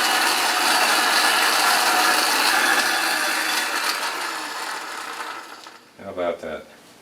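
An antique vacuum cleaner worn on the back as a costume runs loud and steady with a rattling mechanical whir, then winds down and cuts off, followed by a few short voiced sounds near the end.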